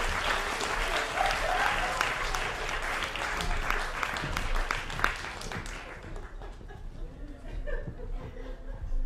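Audience at a puppet cabaret during the Chicago International Puppet Festival applauds an act, dense clapping with scattered laughter and chatter that tapers off after about six seconds into quieter crowd murmur.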